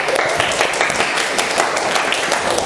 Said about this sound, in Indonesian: Boleh deh tepuk tangannya